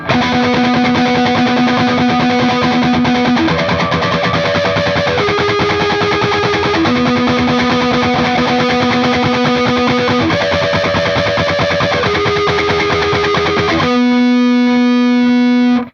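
Distorted electric guitar harmonics, picked fast with alternate up-and-down strokes, fill the whole stretch loudly and without a break. Bright ringing pitches shift between a few notes, moving into a fuller chord near the end. No one speaks.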